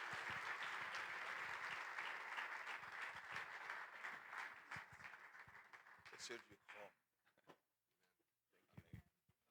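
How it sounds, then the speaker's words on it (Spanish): A church congregation at an evening worship service gives a loud, sustained round of applause that fades out after several seconds, leaving a few scattered claps and sounds. "vamos a dar un fuerte aplauso al Señor por sus vidas"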